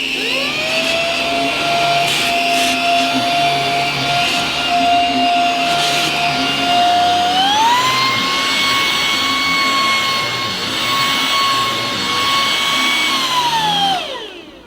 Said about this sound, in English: it's the Simplicity cordless cleaner.